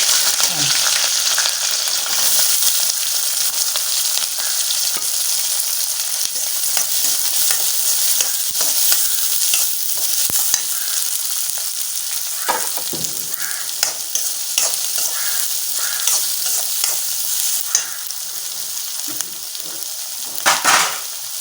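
Steady loud sizzling of dried red chillies, green chillies, curry leaves and onion frying in hot oil, with occasional stirring scrapes, continuous throughout.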